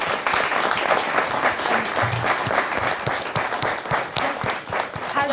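Audience clapping at a health talk on free contraceptives, a dense, steady burst of many hands that stays loud and even for several seconds, close and filling the room with no speech over it.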